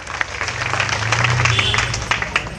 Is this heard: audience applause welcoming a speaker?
yes